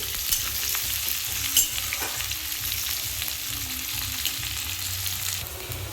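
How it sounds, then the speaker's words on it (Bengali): Onion paste frying in a pan for a mutton curry, a steady close sizzle with soft stirring scrapes, alone without voices. "পেঁয়াজটা ভেজে নেবো একটু"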